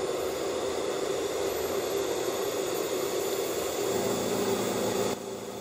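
A Neo Sphere air bearing driven by an ABHA coil spins up toward very high RPM, producing a steady, loud broadband whine and rushing hiss with a rising tonal band, then cutting down abruptly near the end.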